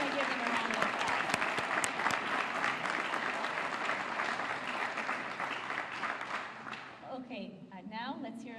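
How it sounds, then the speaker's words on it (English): An audience at a fire department girls camp event applauds volunteers with dense, sustained clapping that fades out, followed by a speaker's voice. "So I really want to give them a round of applause."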